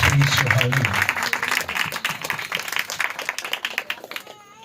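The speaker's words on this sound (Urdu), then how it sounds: "ہم زوردار تالیاں بجا کر خدا کے نام کو مبارک کریں" A church congregation claps loudly together for a few seconds, a dense wash of many hands near and far that thins toward the end as a voice begins to speak.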